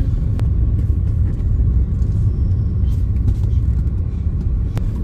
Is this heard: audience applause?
no